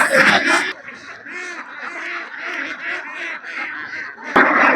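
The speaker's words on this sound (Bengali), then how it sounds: "চারদিকে শুধু হাঁস হাঁস হাঁস" Many ducks on a duck farm beside the Dhalai river quack in a dense, continuous chorus of overlapping calls, close and fairly loud, with a louder burst of noise at the start and end.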